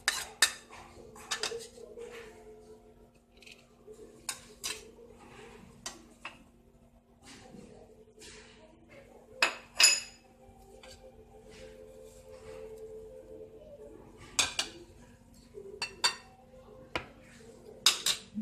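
Chicken and potato cutlet mixture with onion and chilies being worked together in a bowl, giving repeated close clinks and scrapes of a utensil against the dish, with soft squishy mixing between the louder knocks.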